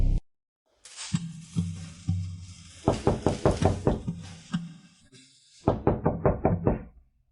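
Knocking on a door, with several clear rounds of sharp wooden raps in quick bursts, loud and close, separated by short pauses, with no voices.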